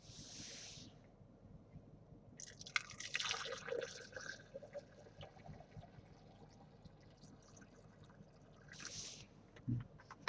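Iced tea is poured into a big tall glass, with faint liquid splashing and trickling amid soft clinks and handling noises, quiet and close, with brief hissy bursts at the start and end.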